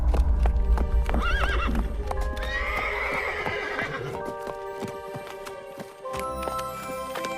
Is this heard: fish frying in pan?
no